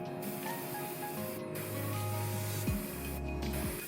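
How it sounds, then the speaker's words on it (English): Airbrush spraying a clear coat onto a 1999 no-grade 1/144 Turn X model kit, a steady close hiss of compressed air with a few brief pauses and small pressure changes. "Then I spray a final clear coat to blend it all in."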